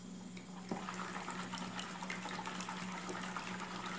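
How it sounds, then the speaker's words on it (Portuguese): Squeezed juice of three lemons, strained of water, poured into a lemon mousse mixture, giving a steady wet trickling and splashing that runs for several seconds at moderate level with no talk. "Eu tenho três limões espremidos, sem a água, que eu vou estar colocando aqui."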